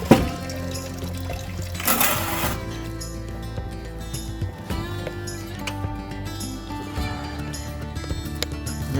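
Maple sap siphoning through a garden hose into a container at home, a steady gurgling, splashing flow of liquid close by with irregular sloshes, running continuously and alone.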